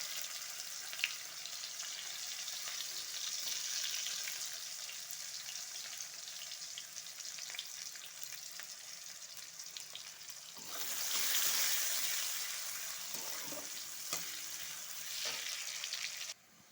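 Chopped onion sizzling in hot oil in a pan while cooking a pointed gourd and prawn dish, a continuous loud frying hiss with a surge of sizzle partway through.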